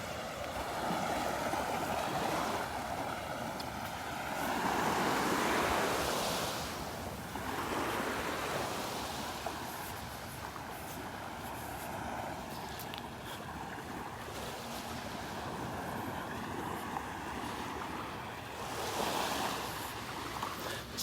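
Small waves break gently on the shore at Vanderbilt Beach on a grey morning, with soft, repeated washes of surf rising and falling alongside steady wind rumble against the microphone.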